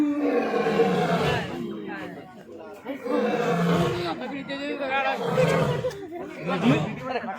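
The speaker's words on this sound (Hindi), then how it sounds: "देखिए उसका दहाड़ कितना खतरनाक है।" A big cat roars repeatedly from its enclosure at Patna zoo. The deep, loud roars come in rolling bursts over steady crowd chatter and voices nearby.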